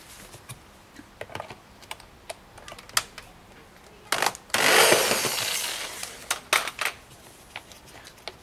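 Self-tapping screws are worked out of a Peugeot 208 air filter housing in a series of short, sharp clicks and ratcheting taps, with a brief louder whirring burst midway, close and fairly quiet.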